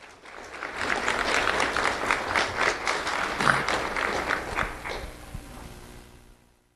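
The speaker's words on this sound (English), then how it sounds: "Let's have a round of applause for Leah Rivera." An audience applauds a first-grade award recipient at a sheriff's office recognition ceremony, steady dense clapping from many hands that swells and holds before tapering off toward the end.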